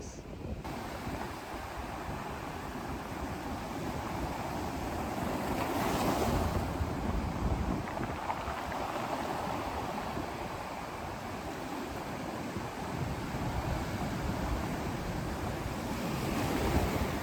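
Ocean waves break and wash up on a chilly beach in steady, overlapping surges, with the roar swelling every few seconds under constant wind buffeting the microphone; no one speaks.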